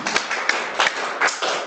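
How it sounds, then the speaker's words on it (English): An audience applauds after an academic talk on the Cuban painted snail, Polymita picta, with a short, dense burst of clapping at steady strength throughout. "We'll give you applause."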